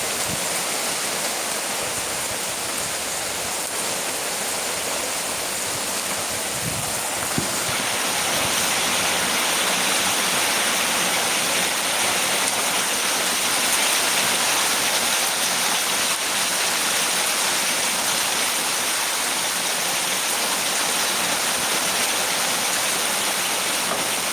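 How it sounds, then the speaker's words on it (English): Steady rain falls outdoors as a constant broadband hiss, loud and close, with no voices over it; the downpour thickens slightly partway through. "it's raining right here where I'm at"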